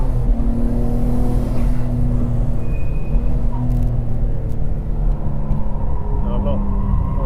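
An R32 or R34 Nissan Skyline GT-R lapping The Bend circuit, its engine droning loudly and steadily with shifting pitch, driven gently out of corners, while someone talks over it throughout.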